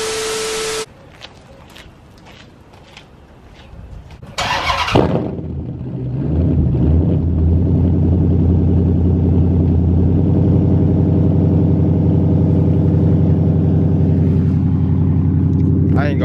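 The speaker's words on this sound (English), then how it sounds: "I already started the car, but I'm gonna give y'all another cold start" A Dodge Charger SRT8 V8 cranks and catches on a cold start after sitting five days, then settles into a loud, steady idle rumble that swells as it revs.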